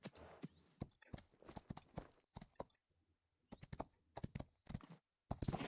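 Horse hooves clop at a walk in the Rival Stars Horse Racing video game, an uneven run of close, crisp footfalls broken by brief silent gaps.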